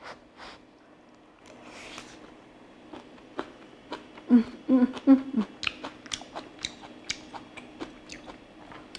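Someone chews a mouthful of crunchy kimchi fried rice close to the microphone, with a cluster of loud crisp bites in the middle and softer chewing around it.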